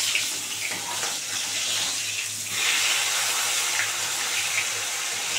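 Freshly flipped kei fish fry in hot oil, the other side now down in the pan, giving a dense, continuous crackling sizzle that swells slightly partway through and stays close and loud throughout.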